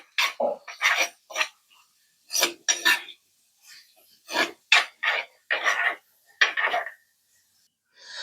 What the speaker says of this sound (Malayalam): പിന്നെ നമ്മൾ എടുക്കുന്ന പച്ചമുളക് ഇതെല്ലാം കൂടെ നമുക്ക് അതിനകത്തോട്ട് നമുക്കെല്ലാം ഒന്ന് ഇളക്കി ഒന്ന് വഴറ്റിയെടുക്കുക